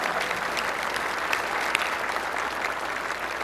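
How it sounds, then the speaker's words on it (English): Steady, dense applause from a crowd at the Chase Center ribbon cutting ceremony, sustained evenly throughout with no talking over it. "Bigger applause."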